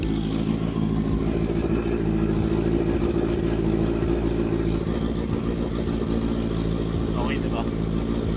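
A 2023 Honda CBR650R motorcycle idling after a cold start, a steady, loud, close inline-four burble that holds even throughout, with someone talking over it.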